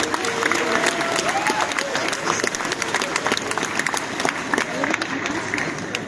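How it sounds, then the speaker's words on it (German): A crowd at a cosplay catwalk event in Munich applauds cosplayers, dense sustained clapping with scattered cheers close around, a voice briefly audible early on. "Also einmal einen Applaus bitte für alle Cosplayenden."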